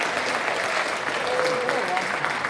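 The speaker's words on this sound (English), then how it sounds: "Give yourselves a round of applause" Applause from a crowd at a high school freshman orientation, a full, continuous roar of clapping that stays steady and loud throughout.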